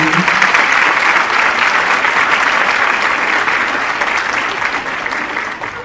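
Loud, sustained applause fills a school concert hall after a grade 5 winter concert, a dense clapping crowd that stays strong for several seconds before easing slightly at the end.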